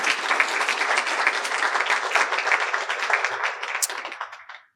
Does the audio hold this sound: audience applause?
yes